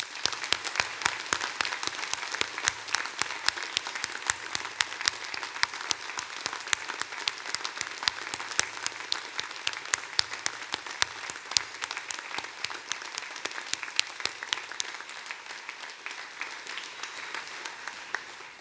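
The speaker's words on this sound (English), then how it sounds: "let's start today's ceremony by giving all of our amazing graduates a huge round of applause" Degree ceremony audience giving the graduates a long, sustained round of applause, dense and even clapping from a large crowd that tapers slightly near the end.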